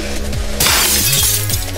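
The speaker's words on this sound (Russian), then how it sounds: "Ты разбил мой телефон!" A mobile phone being smashed sounds as a sudden loud shattering crash, a bright burst of breaking debris over background music in a dramatic home scene, with no voices during the impact.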